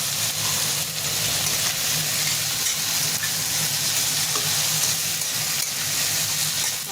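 Peas frying for pulao, a dense steady sizzle and crackle in the pan up close, continuous throughout with faint stirring and no voices.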